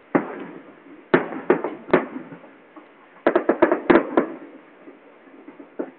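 Distant Eid fireworks display pops and crackles in scattered bursts over a steady rushing hiss, with a quick cluster of bangs midway.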